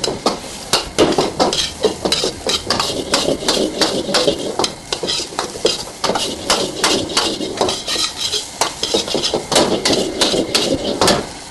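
Seafood fried rice is stir-fried with chili sauce in a pan, a metal spatula clanging and scraping rapidly and loudly against it in a fast rhythmic stream over a faint sizzle.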